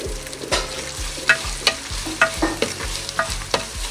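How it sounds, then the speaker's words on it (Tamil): Onions and green chillies frying in a pan for ghee rice with a steady sizzle, punctuated by a spoon clinking and scraping as they are stirred, close by with no talking. "வெங்காயம், பச்சை மிளகாய் எல்லாம் வந்து வதங்கிட்டுது"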